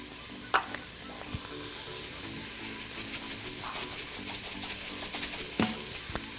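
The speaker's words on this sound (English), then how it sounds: "saute until the vegetables are a little bit soft" Vegetables sauté in a pan with salt and pepper, giving a steady close sizzle broken by several sharp utensil clacks and stirring scrapes, rising a little toward the end with no talking.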